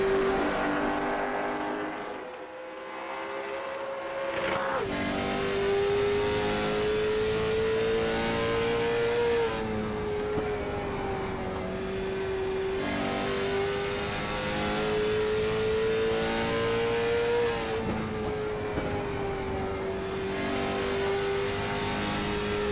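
An Acura race car at a derby drag event accelerates hard down a racetrack. Its engine holds a steady, loud, rising drone through gear changes, heard close and alone for over twenty seconds.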